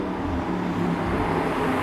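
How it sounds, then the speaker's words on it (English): Noisy car driving past on a dockside street, a steady close engine rumble with broad road noise filling the whole short stretch, no voices. "That's a noisy car."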